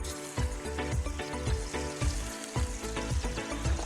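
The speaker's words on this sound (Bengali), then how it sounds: "তেলগুলি এখন গরম হয়ে গেছে। এবার আমি মাছগুলি আমি এই যে দেখতে পাচ্ছেন, এই মাছগুলি এখন ভাজা করে নেব।" Pona fish frying in hot oil in a pan for paturi: a steady, loud sizzle and crackle throughout, broken by regular soft thumps and scrapes as the pieces are moved.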